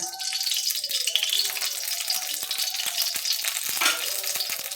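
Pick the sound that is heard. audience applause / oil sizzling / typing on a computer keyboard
oil sizzling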